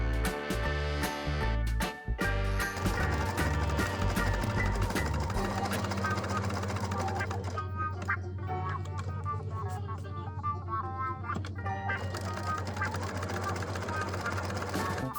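A sewing machine runs steadily, stitching burnt orange fabric ear pieces onto a cat mask, its fast even whir continuous and close, with short pauses and restarts near the start.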